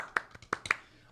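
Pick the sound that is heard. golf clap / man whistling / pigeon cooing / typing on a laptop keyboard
golf clap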